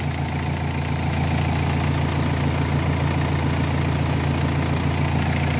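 Car engine idling with the battery disconnected, running on the alternator during an alternator test, a steady even hum and low rumble, close and constant with no voices.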